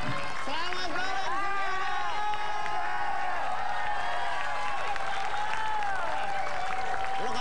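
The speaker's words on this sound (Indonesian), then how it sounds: "Tepuk tangan dulu." A television talk-show studio audience applauds for about seven seconds, steady clapping mixed with whoops, tonal voices and lively background sound throughout.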